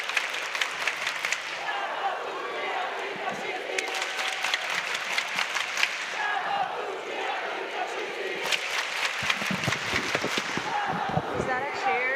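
A crowd at a men's Roller Derby World Cup team parade cheers and claps in a lively, continuous roar with scattered shouts and rhythmic bursts of applause, heard at moderate distance.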